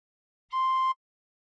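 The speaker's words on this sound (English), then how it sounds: "Fingers 1 to 6 on holes 1 to 6 and hard blow once." One hard-blown tin whistle note with all six holes covered, a pure steady tone held for under half a second, isolated in silence.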